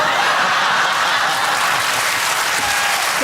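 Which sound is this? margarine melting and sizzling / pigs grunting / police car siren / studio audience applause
studio audience applause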